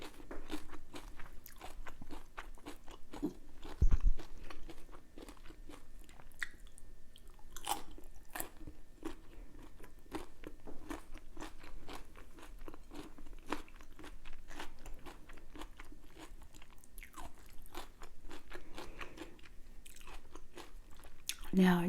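Crunchy, close-up bites and chewing of fresh garden cucumber at an ASMR mukbang: wet crunches repeat steadily throughout, with one louder bite early on and a soft voice now and then.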